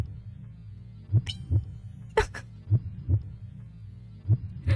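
Heartbeat in the video game Z.A.T.O, a steady low double thump repeating about every second and a half, with a few brief higher game noises cutting in between the beats.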